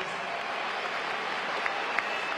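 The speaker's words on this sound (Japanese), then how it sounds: "大歓声です。" A large baseball stadium crowd cheers and applauds steadily as the home team's ace pitcher steps up for a post-game hero interview after a win over the Eagles, a dense, even roar with no break.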